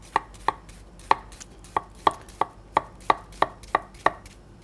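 A knife chops an onion on a chopping board, about a dozen crisp, evenly spaced strikes close up, with no voices.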